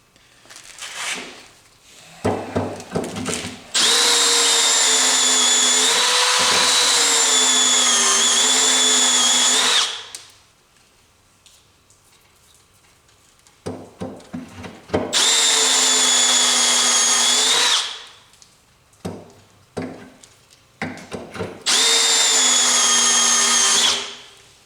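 A power tool whines steadily as it trims fountain pen blank barrels, in three long loud runs at a steady pitch with quieter handling and clicks in the pauses.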